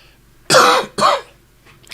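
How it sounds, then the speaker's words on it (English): One person coughing close up, two harsh forceful bursts in quick succession followed by a faint trailing catch of breath. "Listen to me cough."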